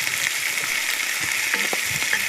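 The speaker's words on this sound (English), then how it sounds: "I'm just going to brown these a little bit, kind of sear them." Drained canned mushrooms sear in a hot Dutch oven outdoors in the desert, giving a steady, close, crackling sizzle throughout with no talking.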